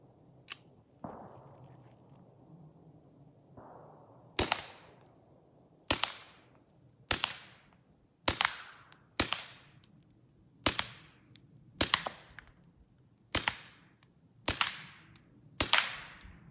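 Suppressed shots from a Smith & Wesson Model 41 .22 pistol fitted with an SWR Spectre 2 suppressor: about ten sharp, evenly spaced cracks, each with a short decay, after faint low rumbles at the start.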